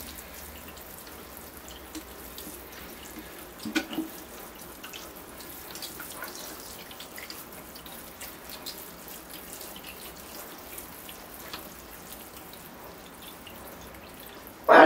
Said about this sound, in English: Let's water the tree once again.